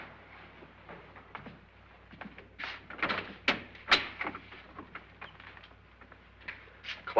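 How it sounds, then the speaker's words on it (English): Doors in an old house opening and closing, a series of knocks, creaks and thumps growing louder toward the middle, with a sharper bang at the end. "Boy, I've never seen so many doors."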